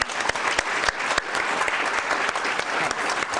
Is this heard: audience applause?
yes